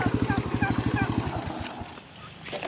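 Free-range turkeys gobble in a rapid pulsing burst that fades out partway through, close and fairly loud, with farm ambience continuing after.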